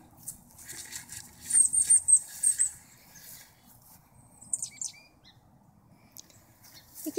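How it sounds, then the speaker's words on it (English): Chickadees calling outdoors in leafy woods, a cluster of high thin chirps early on, then a few scattered faint calls with soft rustling and footsteps in between. "We get introduced by the chickadees."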